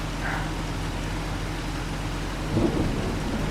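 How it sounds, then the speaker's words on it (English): Thunder and rain in Farming Simulator 25: a constant low rumbling storm bed with steady rain hiss, and a louder thunder roll swelling near the end. "Sounds like the rain is going to start again."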